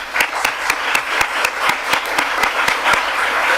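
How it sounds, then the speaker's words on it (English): Clapping at a conference plenary session, heard as evenly spaced, crisp claps repeating at a steady rhythm with a faint hum of room noise beneath. "So I really ask a big applause for them"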